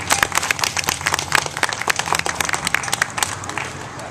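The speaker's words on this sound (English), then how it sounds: "Let's give them a round of applause." Audience at a Juneteenth event breaking into lively applause, a thick, continuous clatter of many hands with a faint murmur of voices underneath.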